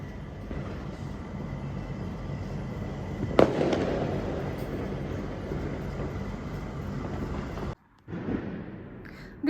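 Diwali sky-shot fireworks explode in a dense, continuous crackling rumble outdoors at a hostel, with one sharp nearby bang midway and a brief lull before more bursts.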